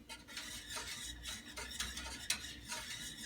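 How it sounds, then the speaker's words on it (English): A thick peanut butter and chocolate cream liqueur mixture being stirred, heard as soft, repeated scraping and swishing strokes with a few light clinks of a utensil against the container, close and fairly quiet. "we're just going to stir this together"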